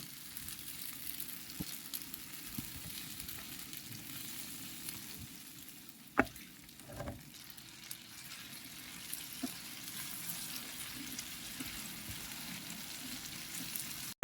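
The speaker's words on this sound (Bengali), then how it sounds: "বড়ইটাকে আমি হাত দিয়ে একটু ফাটিয়ে নিয়েছি। এখন এটাকে একটু ভেজে নেব।" Cracked jujube fruit frying gently in a pan for pickle, a faint continuous low sizzle with a few soft stirring knocks and clinks scattered through, quiet and close.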